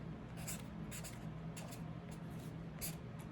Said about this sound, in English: So I'm going to write in 7 a.m.